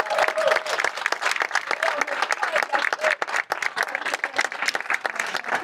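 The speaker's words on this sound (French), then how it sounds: "Donc on peut les applaudir." A crowd at a speech marking a 25th anniversary breaks into sustained applause, many hands clapping in dense, uneven bursts, with a voice faintly audible underneath.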